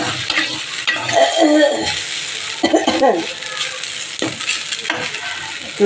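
Food fries in ghee in a kadai, giving a steady sizzle with stirring and scraping, clinks of a utensil against the pan, and some talk over the top.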